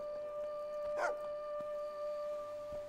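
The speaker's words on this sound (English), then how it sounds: "Is that what you were barking about?" A dog in the video game Fable 2 gives a single short bark-like yelp near the middle, moderately clear over quiet game ambience with faint steady tones.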